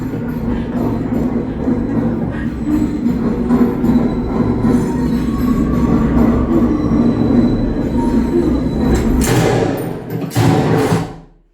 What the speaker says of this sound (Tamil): இப்போ இந்த சீனில் அந்த ட்ரெயின் போகிற சவுண்டும் எனக்கு மேலே இருக்க ட்ராக்கில் மட்டும்தான் கேட்டுச்சு